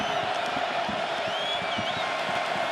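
Crowd roar at an Iowa college football stadium during Michigan State at Iowa, a dense continuous wash of fan noise with faint scattered whistles, steady and loud throughout.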